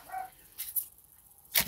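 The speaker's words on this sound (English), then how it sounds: "I don't know what my dog keeps barking at." A dog barks indoors during a home live stream, three short separate barks at a moderate distance with quiet gaps between them.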